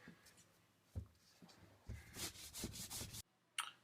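Sandpaper rubbed by hand across a wooden hollow-core door under repair, a single scrape followed by a dense run of rapid back-and-forth strokes, then a brief pause and one last short rub, close and fairly quiet.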